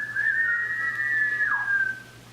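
A single sustained whistle in a told children's story about a noisy house, standing for a tea kettle, holding one steady pitch before dipping at the end, close and alone; probably a human voice imitating the kettle.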